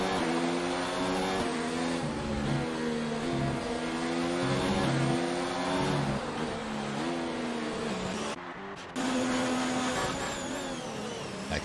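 Whining F1 racing car engines from an Xbox F1 video game at Abu Dhabi, loud and continuous as they rise and fall through gear changes, with a short dropout near the end.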